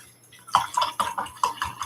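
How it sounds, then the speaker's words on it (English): Paintbrush rinsed in a water pot, several quick sloshing and swishing splashes in a loose rhythm, close and clear with no talking. "So take this brush and put it in your water and rinse it through."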